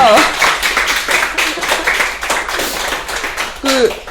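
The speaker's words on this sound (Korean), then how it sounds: "박수 한번 부탁드릴게요." An audience at a book talk for a book launch breaks into brief, close hand clapping, heard along with speech at the start and end of the clip.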